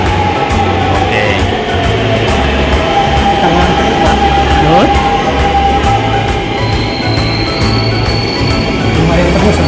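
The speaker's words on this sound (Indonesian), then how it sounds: "Nah, kita sekarang keretanya nyampe." A train pulls into a station in Korea, its steady loud rumble and rail noise filling the space, with a long high squeal of braking near the end.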